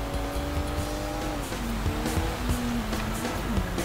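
Car engine revving and shifting in a video game, with rising and falling engine tones through gear changes and some tire squeal, loud and continuous with no talk.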